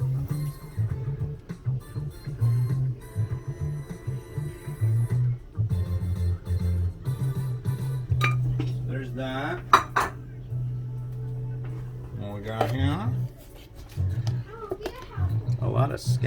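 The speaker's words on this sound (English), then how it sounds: "Time to spatulate." Metal spatula scraping and clanking in a pan of instant pepper noodles, busy continuous kitchen clatter with a steady cooking hum underneath and voices talking over it.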